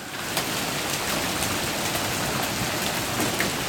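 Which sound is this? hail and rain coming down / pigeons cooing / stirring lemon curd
hail and rain coming down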